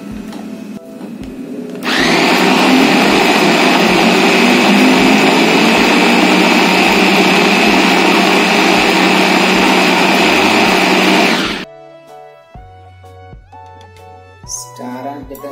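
A blender grinds spices for Indonesian pepes ikan kembung, a loud steady whirring roar running for about ten seconds before stopping abruptly, followed by quieter kitchen clatter.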